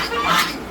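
A duck kept with geese at a farm coop and pond gives a single short, raspy quack, close and fairly loud.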